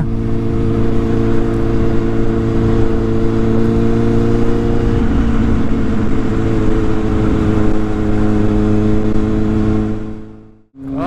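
Kawasaki Z800 motorcycle fitted with a Giannelli exhaust, its engine droning loud and close at a steady high rev for about ten seconds before cutting off abruptly near the end.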